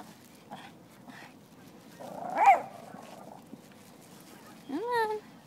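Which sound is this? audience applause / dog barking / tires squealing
dog barking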